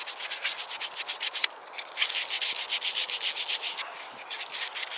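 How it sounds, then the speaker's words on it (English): Close, steady rhythmic rasping of sandpaper on a hand-carved wooden spoon, smoothing the bowl in quick regular back-and-forth strokes with one brief pause, no voices. "Let's give it a bit of shape, smooth it out, especially the bowl"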